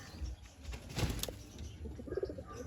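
A pigeon gives a faint, low coo near the end, among soft wing flaps and handling noises, all quiet and close.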